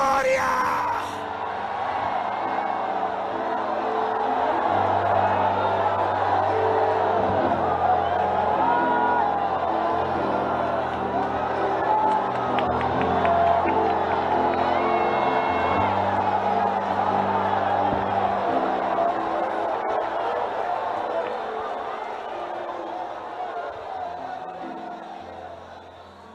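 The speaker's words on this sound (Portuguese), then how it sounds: "dê um grito de glória!" A Pentecostal church congregation shouts and yells together in a sustained roar of cheering and whooping, with organ or keyboard chords underneath, slowly fading toward the end.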